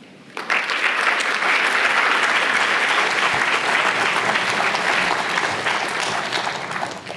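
Loud, dense audience applause fills a speech night hall for a group of speakers, starting abruptly and holding steady throughout without talk.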